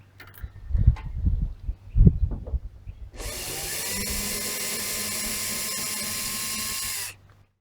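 A power drill whines steadily for about four seconds, drilling out window screws on a 1966 Viscount Ambassador aircraft, after a few knocks and handling sounds up close.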